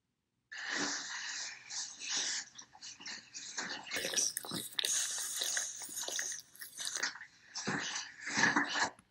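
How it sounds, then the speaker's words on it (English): Dog snoring pitched down deep with heavy reverb for monster sound design, a series of rough, breathy snorts and growling inhales at moderate level, alone. "this isn't just a dog snoring, the second one. It's deep in pitch, more reverb"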